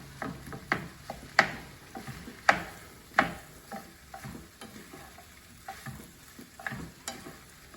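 Chicken fried rice being stir-fried in a pan, with a steady low sizzle broken by irregular scraping and clacking strokes of a utensil against the pan, some sharp and loud, close by with no talking.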